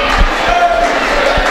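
At a boys varsity high school homecoming basketball game, a loud crowd of senior boys chants and sings together, a dense, continuous roar of voices with a few thumps underneath.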